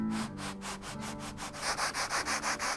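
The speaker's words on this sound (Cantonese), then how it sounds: "咁刨平咗之後呢，我哋就要攞呢個砂紙條沙佢" A sandpaper strip is rubbed back and forth over planed guitar wood in a handmade guitar workshop, producing quick rhythmic scraping strokes that grow louder and more regular toward the end.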